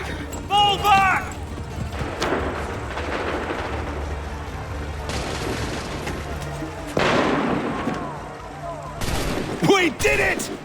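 Volleys of musket gunfire in an Assassin's Creed III battle, dense crackling shots rolling on for several seconds with a sharp burst near the end, mixed with shouted voices throughout.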